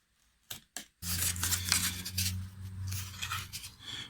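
Thin wood veneer for a guitar headstock is cut outside a drawn line, likely with scissors: two short snips, then a longer run of crisp, close-up cutting and scraping with a faint low hum beneath.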